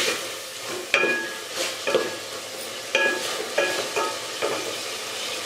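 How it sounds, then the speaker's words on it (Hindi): Chicken and green chillies are fried in a pot as part of a yogurt-marinated chicken and pumpkin dish, a steady sizzle broken by a spoon scraping and knocking against the pot about once a second. "अब मैं इसको थोड़ा सा और भूनूंगी।"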